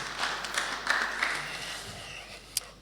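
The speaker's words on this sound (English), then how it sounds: "give yourself a quick round of applause" A conference audience of business professionals claps briefly, a moderate wash of overlapping hand claps that swells and fades within a few seconds, heard at a distance in a large hall.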